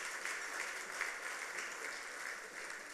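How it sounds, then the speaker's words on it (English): Guests at the 2017 Ghana Expatriate Awards ceremony give a round of applause, a soft, distant, sustained wash of clapping with no speech. "I believe that is deserving of a round of applause."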